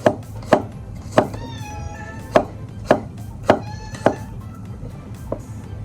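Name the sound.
chopping garlic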